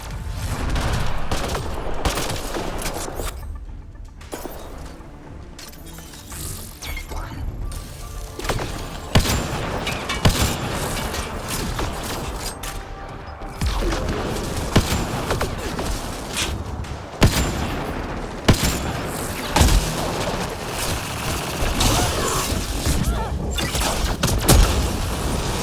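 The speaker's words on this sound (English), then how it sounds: "Let's see if the cloak stops gunfire!" Repeated bursts and volleys of gunfire crack through a Mass Effect Andromeda firefight, loud and sustained with sharper shots punctuating the din.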